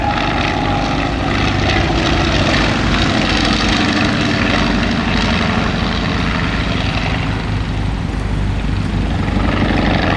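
A World War I replica fighter, a Spad, roars through a low strafing pass at an airshow, its propeller engine loud and steady throughout, with the drone easing slightly toward the end.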